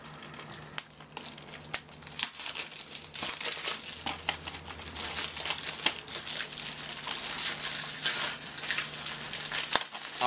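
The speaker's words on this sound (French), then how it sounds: "nous avons évidemment la boîte du jeu que je vais m'empresser d'ouvrir" Plastic wrap crinkles and tears as a Gears of War 3 collector's edition game box is opened up close, with continuous rustling, crackling and occasional sharper rips and handling knocks.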